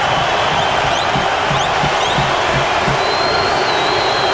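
Hockey arena crowd roaring after a Game 7 overtime series win, a dense sustained wall of cheering and applause with whistles, loud and unbroken throughout.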